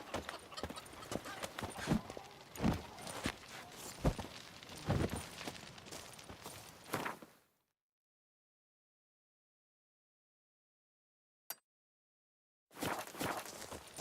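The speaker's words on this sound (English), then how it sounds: "Even a horse drops if you ride it at a constant gallop." A horse's hooves clip-clop at a steady gallop in the video game The Witcher 3: Wild Hunt. The rapid beat runs loud for several seconds, then drops to silence before briefly resuming.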